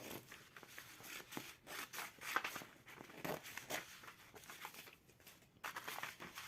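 Scissors snip through a paper pattern for a katori blouse, giving soft, irregular crisp cuts and paper rustling close by, quiet and steady with no talking.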